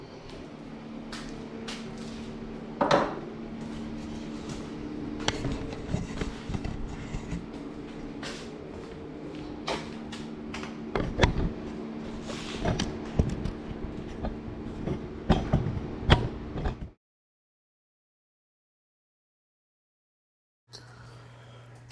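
Passenger-side axle being pried, wiggled and pulled from the rear end housing of a 1969 Super: steady metallic scraping and grinding with sharp clanks and knocks over about seventeen seconds, then silence and a short final burst.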